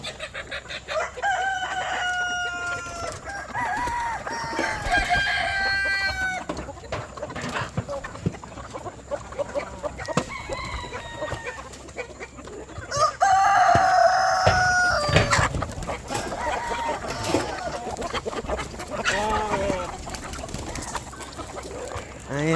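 Free-range homestead chickens cluck steadily while a rooster crows several times, loud and close, with brief bursts of speech over the flock.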